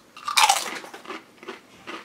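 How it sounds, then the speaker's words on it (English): Someone bites into thin, light, crispy Tostitos tortilla chips, with one loud, close crunch followed by several softer chewing crunches. "They're quite thin, but are still very crunchy."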